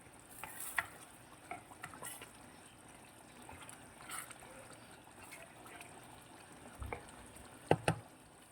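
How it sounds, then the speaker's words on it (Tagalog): Chicken balls are stirred in a pan to coat them in sauce, giving a faint, soft sizzle with occasional light scrapes and clinks of the utensil against the pan. "Mix natin siya ng konti para ma-coat siya ng sauce."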